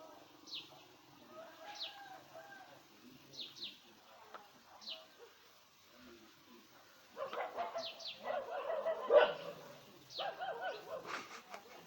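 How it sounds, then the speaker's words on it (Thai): A dog barks in short, spaced bursts outdoors, mixed with bird calls and pigeon cooing; the barking grows louder and denser near the end. "มันเห่าเรื่องธรรมชาติของมันนะ"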